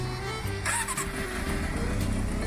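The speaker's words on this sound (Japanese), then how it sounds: "これエンジンかけてもいいですか" A Yamaha XJR400 motorcycle engine cranks and catches, then settles into a steady rumbling idle close by, with a few brief clatters during startup.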